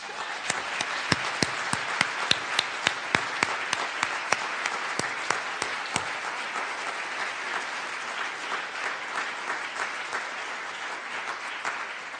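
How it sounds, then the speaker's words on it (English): Applause from the audience at a keynote for a Green House Project meeting, with dense clapping that starts loud and sharp and then thins into a softer, steady patter for about twelve seconds. "we owe them all a huge round of applause"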